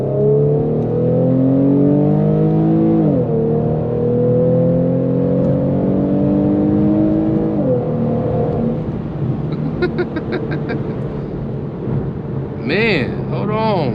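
An Infiniti Q50 with the 3.7 engine and aFe drop-in filters accelerates hard from inside the cabin, engine tone climbing through two loud rising sweeps with a gear change between, then settling while a voice speaks over it.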